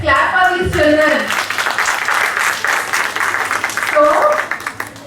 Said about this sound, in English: Let's clap for these children.